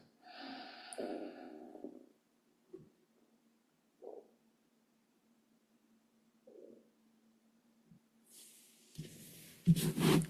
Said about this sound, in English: Just breathe in through the nose and out through the nose, listening to the breath.